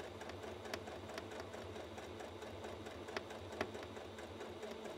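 A sewing machine runs steadily, stitching a zipper onto a pillow along a half-inch seam allowance; a quiet, continuous whirring motor with faint needle ticks, heard alone.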